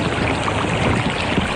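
Big river wave, a continuous loud rushing, churning wash of water that fills the whole clip with no talking.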